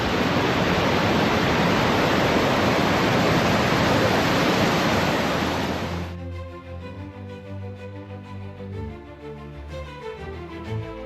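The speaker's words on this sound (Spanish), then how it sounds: "Mirad qué maravilla, los rápidos" River rapids in the mountains of Baltistan, Pakistan, roar as a loud, dense wash of rushing water for about six seconds before cutting to a quieter scene with a softer, uneven rumble.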